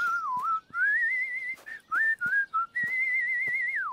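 Someone whistles through pursed lips, a clear, close melody of sliding pitched notes in several short phrases with brief breaks between them.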